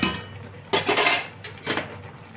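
Pumpkin greens curry being stirred in a wok, two or three close bursts of metal-on-metal scraping and clanking over a faint background hiss.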